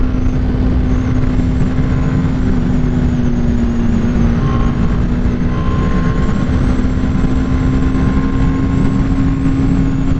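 A BMW G310 R motorcycle engine is held high in the revs at about 8000 rpm while riding. It gives a loud, steady, unbroken drone with rushing wind noise and no talk.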